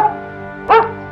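A single short dog bark rises from a faint background, close and moderately loud.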